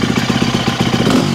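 A KTM 350 motocross motorcycle engine runs close by, loud and steady, with a fast, even chugging pulse and a slight rise toward the end.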